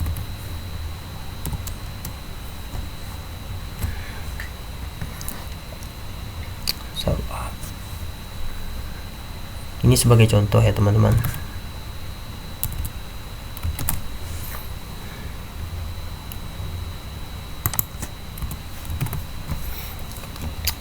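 Typing on a computer keyboard while entering a feature name during GIS digitizing: scattered soft key clicks, then a quick dense burst of keystrokes mid-clip, with a voice talking over it.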